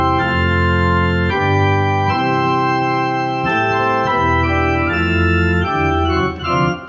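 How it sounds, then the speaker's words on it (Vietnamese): Sustained organ voice from a Yamaha CLP-745 digital piano, loud held chords with a swirling rotary character that change every second or so, alone with no talking. "tiếng này organ, tiếng organ xoáy nè"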